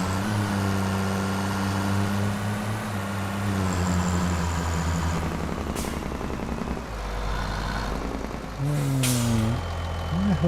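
A truck driving in the video game Logging Farm, with a loud, steady engine drone and shifting tonal whine from close by, plus brief hissing bursts that sound like air brakes. No one speaks.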